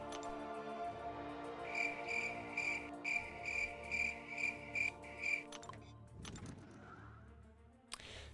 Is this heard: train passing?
no